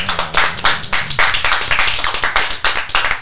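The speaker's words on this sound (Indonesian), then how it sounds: "tepuk tangan dong buat Cimabrur" A small studio audience claps for a guest at the close of an Indonesian talk show. The claps are quick and uneven and fairly close, with no talking over them.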